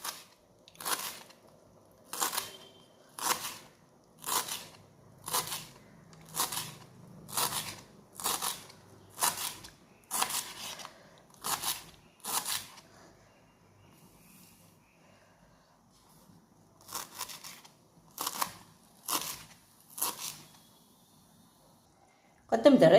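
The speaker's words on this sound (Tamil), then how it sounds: "இப்போ இந்த கொத்தமல்லியை பொடிசாக கட் பண்ணிக்கணும்." A knife chops coriander leaves finely in a steady run of rhythmic crunching strokes, pauses for a few seconds, then resumes for several more cuts.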